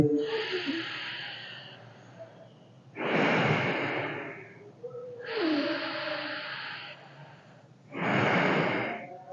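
Deep yogic pranayama breathing, done seated with eyes closed and back straight as an exercise for colds and allergies: four strong, close, airy breaths alternate between inhale and exhale, each lasting about a second or two with short pauses between.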